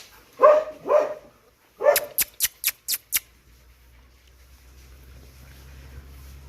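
Dogs barking outdoors where strays are being fed, a few longer barks followed by a rapid run of five or six sharp barks, then quiet with low background rumble.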